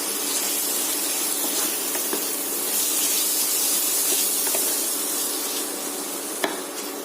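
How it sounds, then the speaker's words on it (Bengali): Raw prawns stirred and lightly fried in a pan, heard as a steady close sizzle and hiss with faint scraping of the stirring, alone and without speech. "এরপর আমি চিংড়ি মাছগুলোকে দিয়ে একটু নেড়ে নিচ্ছি। খুব বেশি ভাজবো না চিংড়ি মাছটা দিয়ে।"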